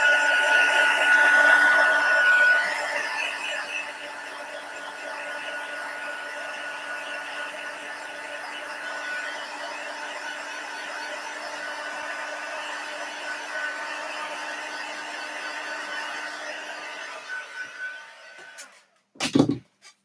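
A heat tool blows hard and steadily over watercolour cardstock, a loud, even rushing whir that runs for most of the stretch, then cuts off near the end with a short thump.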